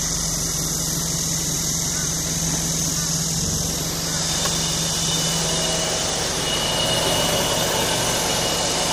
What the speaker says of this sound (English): you'll hear the beeping sound and the engine starts